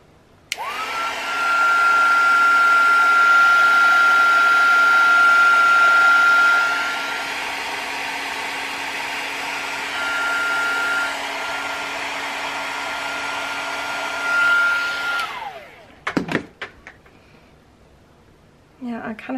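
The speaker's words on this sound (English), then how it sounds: "This is a Wagner heat gun." A Wagner heat gun blows hot air in a steady, loud whirring whine for about fifteen seconds, easing to a slightly lower setting before shutting off. Handling noises follow.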